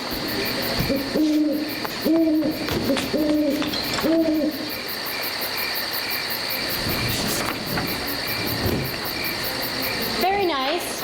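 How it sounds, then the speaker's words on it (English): An owl hoots in a short repeated series of two-note calls, steady and fairly near, over a dense, constant chorus of chirping crickets and insects, with one more hoot near the end. "It's just an old hoot owl"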